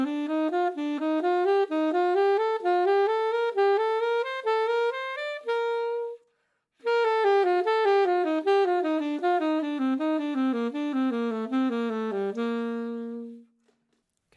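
A saxophone runs through a linear diatonic scale pattern, quick stepwise notes rising and falling in two long clean phrases separated by a short breath, played alone and close.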